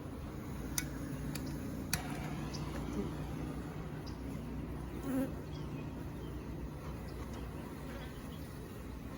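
A continuous low buzzing of many honeybees around a hive fills the air, with a few faint clicks and ticks scattered over the drone.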